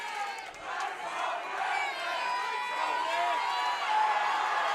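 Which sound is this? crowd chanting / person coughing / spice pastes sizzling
crowd chanting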